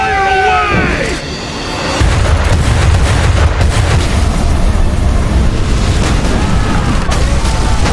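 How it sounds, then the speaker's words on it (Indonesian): Cannon fire and bombs pound enemy ships in a filmed naval battle, a dense, loud, continuous roar of blasts and rumble that swells after a brief quieter opening and holds steady to the end. "Laksamana Yi menghujani kapal-kapal musuh dengan meriam dan bom anak panah"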